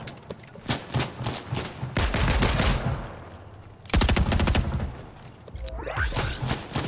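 Loud, close gunfire in Fortnite rattles off in rapid automatic bursts, with short pauses between volleys and a whooshing effect near the end.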